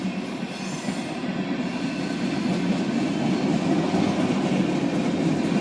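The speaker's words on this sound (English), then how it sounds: "Mixed freight, hopper cars, tankers." A Kanawha River Railroad mixed freight of hopper cars and tankers rolls past in a loud, steady rumble with faint wheel squeal throughout, and no voices.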